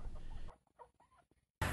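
A rare featherless chicken gives a few soft, short clucks in quick succession, faint and close, bracketed by bursts of louder background noise.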